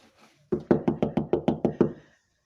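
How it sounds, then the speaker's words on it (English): Eight firm knocks on a door in a steady, even rhythm, close and distinct, followed by silence. "Michael knocks at the door"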